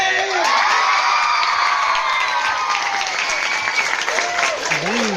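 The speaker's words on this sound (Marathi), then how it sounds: "टाळ्या वाजवत जा" An audience claps and cheers at a live stage show, a sustained burst of applause with whoops and shouts mixed in, loud and close.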